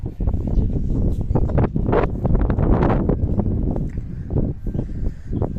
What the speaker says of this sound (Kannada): ಗಾಳಿ ಬರ್ತೈತೆ, ವಾಯ್ಸು ಕಟ್ ಆಗ್ಬೋದು.